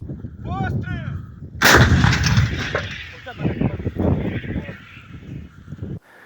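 A Soviet D-20 howitzer fires once, a sudden loud boom that rolls and echoes for several seconds before cutting off. Birds call briefly just before the shot, and voices are faintly present.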